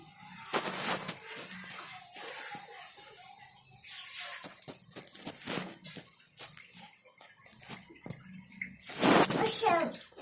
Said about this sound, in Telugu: పైపు వర్షం నీళ్ళు కిందికి పోతున్నాయి.